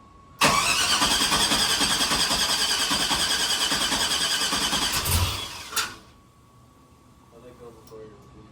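A car engine cranks after a cam swap on a Sierra build, a long loud starter whir of about five seconds that cuts off abruptly and drops to quiet, with people speaking near the end.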